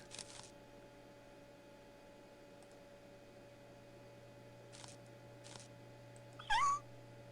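Kittens in a basket give a single short, rising meow near the end, fairly clear above a quiet backdrop of steady electrical hum and a few faint ticks.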